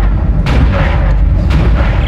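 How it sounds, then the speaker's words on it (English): Loud gunshots in Dead Space, two sharp reports about a second apart, each followed by a short ringing tail over a steady low rumble, with nobody talking. "Nice shooting, Isaac."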